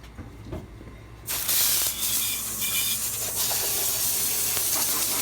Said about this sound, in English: I got my garden hose here.